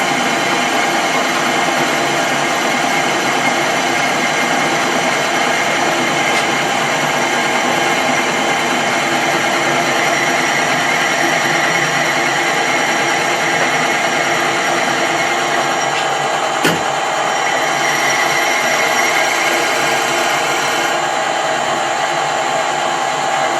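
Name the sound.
Colchester Bantam lathe cutting 16DP change gears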